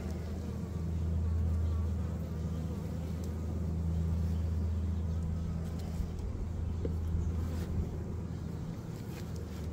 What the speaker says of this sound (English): It's all drones. There is some worker bees though, I see there.